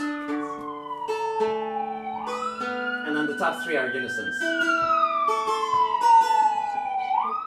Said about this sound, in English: New York sirens that we missed already